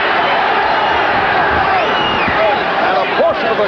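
Boxing arena crowd at a Sean O'Grady fight, a dense, steady roar of cheering and shouting that urges a fighter on, loud and continuous with no single voice standing out.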